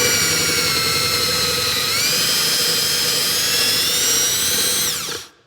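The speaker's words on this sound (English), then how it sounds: "What normally I do is just use a drill bit, use a 3/8 hole," A power drill with a 3/8-inch bit whines loudly and continuously as it bores into wood, its pitch shifting slightly before spinning down at the end.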